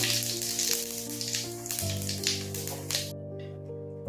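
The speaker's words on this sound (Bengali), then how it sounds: "তেল গরম হয়ে গেছে শুকনো লঙ্কা দিয়ে দিলাম জিরে ফোড়ন দিলাম" Cumin seeds and dried red chilies sizzle and crackle briskly in hot mustard oil, close by, with steady tones running underneath; the sizzling cuts off near the end.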